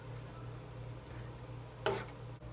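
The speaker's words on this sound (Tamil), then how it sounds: "இதை நல்லா கலந்து விட்டுறலாங்க." A spoon stirs semiya javvarisi payasam in a pot. Quiet, soft scraping and a faint simmer sit over a low hum, and one brief louder scrape comes near the end.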